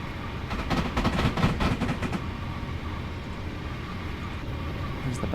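Class 444 electric train rushing past on the Portsmouth line near Weybridge in Train Sim Classic, a steady loud roar of wheels and rushing air that swells early, then holds as a continuous rumble to the end.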